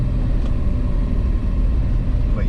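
A BMW E34 535i with a custom straight-pipe exhaust rumbles steadily at close range, a deep, even drone with no talking over it.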